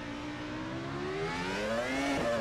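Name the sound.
formula race car engine in rFactor 2 video game, Spa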